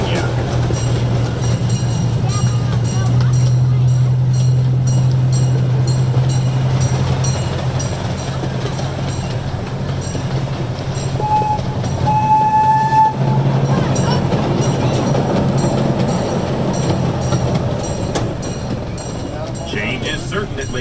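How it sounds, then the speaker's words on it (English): CP Huntington number 79 train running on the Lake Winnipesaukee Railroad, a steady close rumble of the ride with a brief horn toot midway, under faint background voices. "riding on board CP Huntington number 79. One of 2 trains that operate on the Lake Winnipesaukee Railroad"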